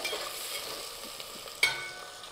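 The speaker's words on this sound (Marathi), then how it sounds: "हे घातल्याबरोबर ह्याच्यामध्ये कांदा, हे छान आपल्याला परतून घ्यायचं आहे" Onion sautéing in hot oil with star anise and black peppercorns for prawn biryani, a soft, fairly quiet sizzle with light stirring and one sharper scrape near the end.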